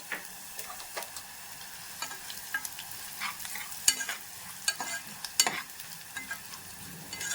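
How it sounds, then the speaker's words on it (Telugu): Coriander seeds and cumin roast in hot oil in a pan, a soft steady sizzle broken by frequent light clicks and scrapes of stirring, close and fairly quiet. "ఇప్పుడు ధనియాలు, జీలకర్ర ఒక 2 స్పూన్లు వేసుకున్నాం కదా, దాన్ని మనం కొద్దిగా వేయించేసుకున్నాము"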